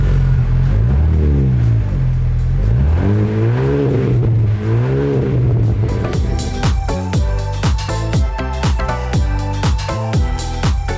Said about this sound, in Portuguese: Acho que vale a pena a gente ligar o carro para mostrar um pouquinho de como é que é este barulho fora dele.